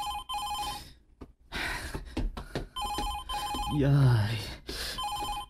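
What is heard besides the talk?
telephone bell ringing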